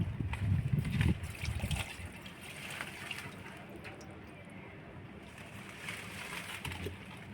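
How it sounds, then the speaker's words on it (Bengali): Water being poured out of a potted mango tree in a rooftop garden, starting with a heavier splashing gush and settling into a steady, softer trickle, with a person talking throughout. "দেখুন আমি জলটা ফেলে দিচ্ছি"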